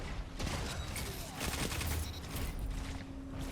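An auto rifle firing in a video game, a faint, steady run of rapid shots with small mechanical clicks, continuing for several seconds at low level.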